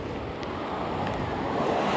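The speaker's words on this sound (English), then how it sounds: "I have come up to this very busy roadside and this very noisy waterfall" A noisy waterfall beside a busy roadside in Glencoe, Scotland, gives a steady rushing roar of water, fairly loud and continuous, mixed with wind buffeting the microphone.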